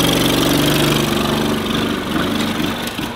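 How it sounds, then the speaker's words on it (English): A children's tractor churns through mud, its motor running steadily and loudly up close, easing off slightly toward the end, with no talking. "This tractor's pretty good in the mud!"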